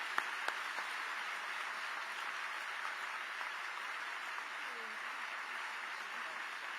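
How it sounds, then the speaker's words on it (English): A large university audience welcomes speakers to the stage with applause that comes across as a faint, distant, even wash of clapping, steady and unbroken from start to finish. "Please join me with a round of applause"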